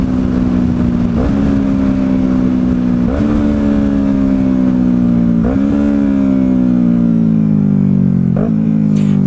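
Yamaha R3 motorcycle fitted with a K&N air filter, ridden hard: loud, close engine drone rising in pitch through each gear, with four distinct shift breaks and no talking.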